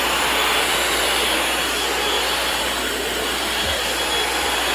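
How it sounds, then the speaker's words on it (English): A Shark vacuum cleaner running indoors, a loud steady broadband whoosh of airflow and motor noise, close and continuous without breaks. "so I'm just loving this Shark vacuum"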